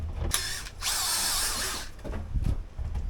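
A power drill unscrews a fitting on a Skorva bed in a van, with a short whir, then a longer sustained high drilling burst, and clunks and handling noises around it, close up.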